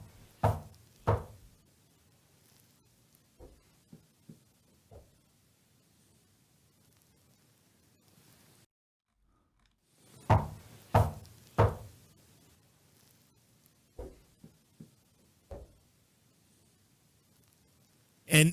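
Sharp knocks on a closet door come in scattered clusters, a few stronger raps with lighter taps between them. They sit against a quiet hiss, with a brief silent gap partway through.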